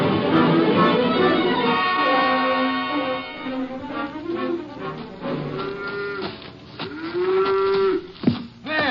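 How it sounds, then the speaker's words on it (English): A cow moos loudly and repeatedly at close range on a farm during milking, long drawn-out lowing calls in a steady sequence with no talk over them. "Let go of that cow for a minute, Luther."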